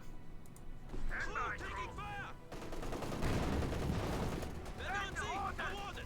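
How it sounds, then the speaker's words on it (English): Panzer IV tank cannon fire in the World War II strategy game Company of Heroes 2, a dense stretch of booming shots and gunfire rolling in the middle, with a commentator's voice talking before and after. "Panzer IV, they're firing away"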